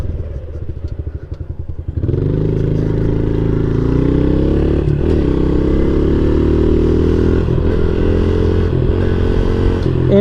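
A 2020 Honda CRF110 small dirt bike engine runs while being ridden, loud and close, rising from a lower idle-like rumble into a sustained droning rev with occasional clatter.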